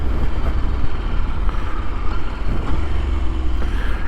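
KTM motorcycle accelerating with quick-shifter gear changes: a loud, steady engine rumble with wind roar and no distinct pauses between gears.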